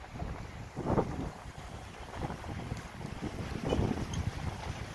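Strong wind at Torres del Paine in Patagonia, rumbling and buffeting the microphone steadily throughout, with louder gusts surging near the start and toward the end.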